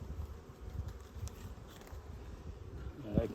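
Honey bees buzz around a honey frame lifted from a hive, a low, dense droning hum that holds steady throughout with small rises, and a brief louder burst near the end.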